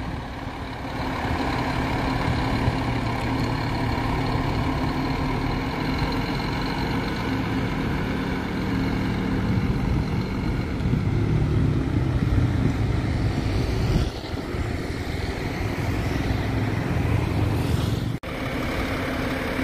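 A Lira Bus Wheezer E6S coach, arriving from Campinas, idles with a steady low engine rumble at the Sorocaba bus station boarding area, loud and close, with no voices.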